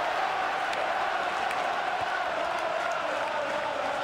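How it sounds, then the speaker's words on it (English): Steady, dense stadium crowd roar during a PES 2010 football match between Liverpool and Napoli, a constant wash of cheering noise with no clear breaks or voices standing out. "the crowd at fever pitch. Lending so much to the spectacle. Noise level high from the start."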